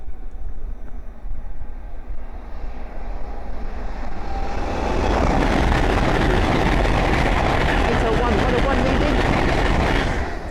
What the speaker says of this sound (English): the next train to pass by is a pair of Hull Trains 801s from London King's Cross to Leeds